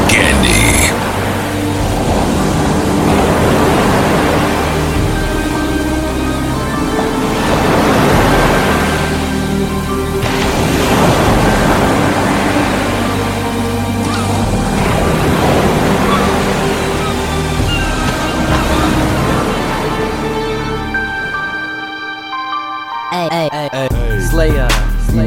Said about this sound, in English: when you hear the sounds of the ocean, that means that the Sports Jock Show is nearing its end